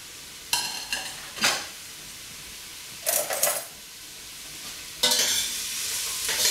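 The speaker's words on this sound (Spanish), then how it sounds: "Echamos la cebolla primero, ¿eh? La cebolla primero." Onion frying in oil in a pan for a homemade sauce, a steady close sizzle with several bursts of stirring and scraping as the pieces are moved around.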